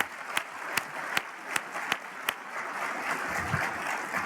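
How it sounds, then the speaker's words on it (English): Steady audience applause at a closing general session of a conference, a dense wash of clapping with a few sharper individual claps standing out in an even rhythm, sustained throughout at moderate loudness. "let's give them one more round of applause"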